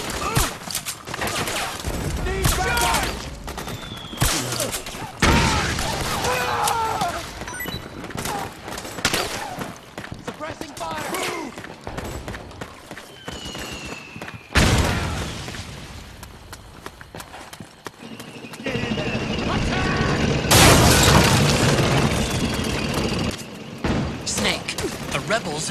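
Rapid bursts of gunfire and booms from the video game Metal Gear Solid 4, fast crackling volleys and heavy thuds near and loud, repeated across the stretch with shouting voices and game music mixed in.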